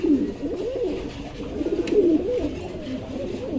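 Fancy racer pigeons, a male and female pair, coo in soft repeated rolling calls that rise and fall steadily and sit close and clear, with no talk over them.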